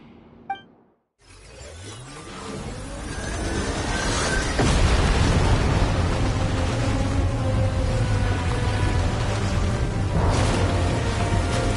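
Deep, sustained rumble of the ground shaking in Genshin Impact, building from near silence after a brief clink into a loud, continuous low roar with gritty crackling on top.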